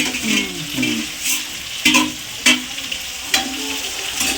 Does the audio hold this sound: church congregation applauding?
no